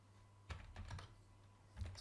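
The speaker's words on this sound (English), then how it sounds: "So we'll type SNMP" Keystrokes on a computer keyboard as a networking command is entered, a few quick clustered taps near the start and another short burst at the end, close and fairly quiet.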